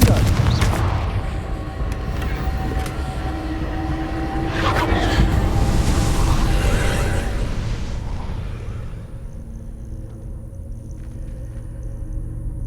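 Spell explosions from Confringo in the video game Hogwarts Legacy, loud rumbling booms layered over a dense game soundtrack, then fading into quieter ambience near the end.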